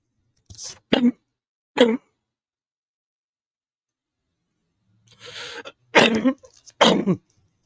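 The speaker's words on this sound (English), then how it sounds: "bad cough." Several separate coughs with quiet gaps between them: a few early, then a rougher cluster later, close by and isolated.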